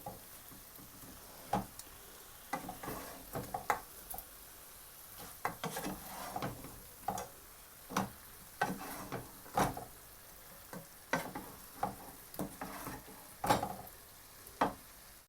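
Fried chicken pieces get mixed into a frying masala in a pan, with repeated sharp spoon scrapes and knocks over a soft, low sizzle, spaced irregularly across the stretch.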